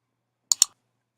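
A computer mouse clicks twice in quick succession, sharp and close, in otherwise silent surroundings while a folder is selected for download.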